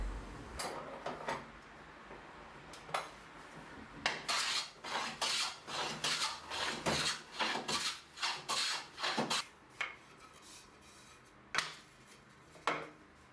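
A hand plane (garlopín) shaving wooden boards down toward final thickness during box making, heard as a series of close, raspy strokes, sparse at first and then a quick run of repeated passes, with a few isolated strokes afterward.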